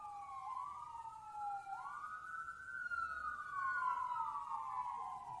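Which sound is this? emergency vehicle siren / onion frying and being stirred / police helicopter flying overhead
emergency vehicle siren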